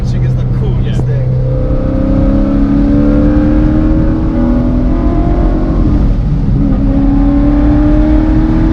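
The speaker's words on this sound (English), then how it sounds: "The rev matching is the coolest thing." A 730 HP Corvette engine revving hard with a downshift rev-match blip, loud and close, rising engine tones that dip and climb again over constant road roar, with speech briefly over it.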